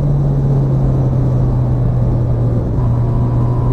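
A steady, deep engine rumble drones without a break, loud and close, holding a low constant pitch with a slight drop near the end.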